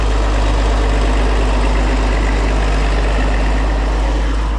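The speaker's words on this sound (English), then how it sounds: "504 diesel running." A diesel engine on an International 504 tractor runs at a steady idle, loud and close, with a deep constant rumble and no voices over it.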